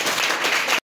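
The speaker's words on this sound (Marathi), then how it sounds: "टाळ्या वाजून अभिनंदन." An audience at a coaching class prize distribution applauds the winners, a burst of dense clapping that runs for under a second and then stops abruptly.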